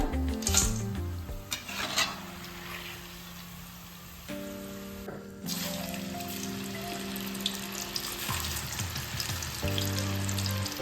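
Banana chips sizzle steadily in hot oil for a homemade Onam batch, with the hiss building again as a fresh load goes in and occasional clinks of a stirring spoon.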